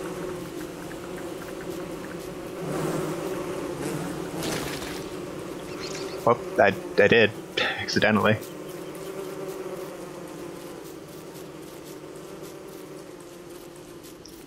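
Bees in the game Don't Starve drone in a steady, layered buzz that continues from start to finish, with louder swells near the middle. Someone speaks briefly over the hum.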